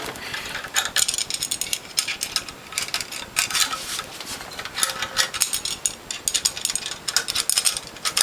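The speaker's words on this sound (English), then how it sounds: "Now we're going to use what's sometimes known as a cheater bar to tighten these." A wrench with a cheater bar tightens bolts on the base plate of a Norwalk juicer, making close, repeated bursts of rapid ratchet clicking, with brief pauses between strokes.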